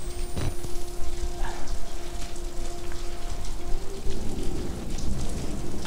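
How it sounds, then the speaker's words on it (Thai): Heavy, steady rain with a rumbling low undertone of thunder in the horror game Outlast: Whistleblower, a dense wash of sound lasting throughout. "โอ้ ฟ้าร้อง"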